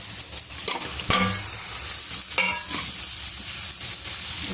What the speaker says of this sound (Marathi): वाटण छान तेलामध्ये तळून घेऊया आणि दोडक्याचा कोळी टाकून घेऊया